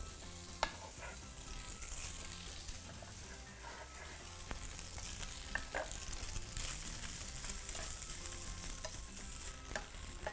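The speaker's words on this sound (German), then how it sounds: "Und Räuchertofu ein bisschen anbraten." Smoked tofu frying in a little oil in a pan, a steady loud sizzle with occasional scraping and stirring clatter throughout.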